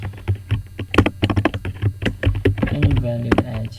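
Code being typed on a computer keyboard, with rapid, irregular key clacks close up while someone speaks over the tapping.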